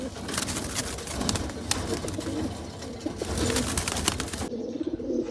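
Pigeons at a pigeon sale in Ichapur, West Bengal, cooing in low, repeated rolling calls close by, with rustling and handling noise over a busy background.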